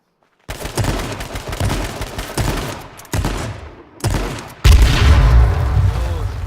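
Shooter video game gunfire crackles in rapid loud bursts and sustained volleys, with a heavier boom near the end, and brief gaps between the exchanges.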